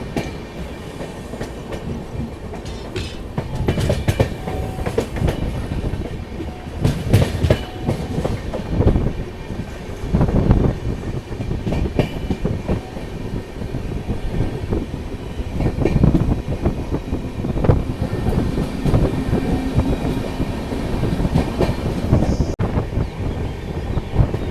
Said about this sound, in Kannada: ಈಗ ಜಸ್ಟ್ ನಮ್ಮ ಟ್ರೈನ್ ಅರಸೀಕೆರೆ ಕ್ರಾಸ್ ಮಾಡತೈತಿ